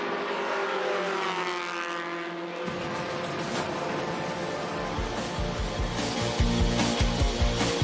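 The number 27 Simpson Ford race car of the Sim Ford Motorsport team, in the Excel Nationals final at The Bend, drives past, its engine note rising and shifting through gears, loud and close, with other cars nearby.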